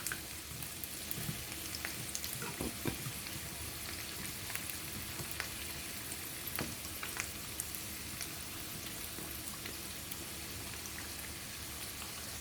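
Salt cod fritters frying in hot oil, giving a steady, fine sizzle with scattered sharp pops and crackles throughout.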